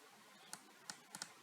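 Computer keyboard typing: four faint, sharp key clicks, the last two in quick succession, over a quiet background hiss.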